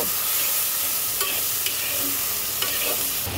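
Golsa fish curry with yardlong beans, potato, salt and spices is stirred in a hot pan, giving a loud, constant close sizzle with occasional soft scrapes from the spoon.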